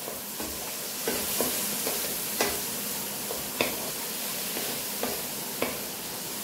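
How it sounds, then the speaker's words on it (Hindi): Chicken egg fried rice being stirred with sauce in a pan, a soft sizzle running throughout with faint irregular scraping ticks of the spatula, quiet and close with no voices. "थोड़ा सा इसको स्टर करेंगे"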